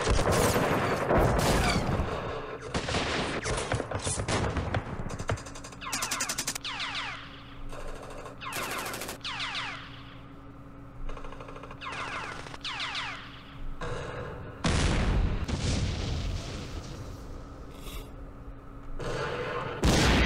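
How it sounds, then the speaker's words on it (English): Artillery fire from the wargame Campaign Series Middle East, a series of separate booming bursts and crashes spaced a second or two apart over a steady low mechanical hum, with no talking. "The artillery in my game against Hobby is the only thing that's saving me from being totally overrun"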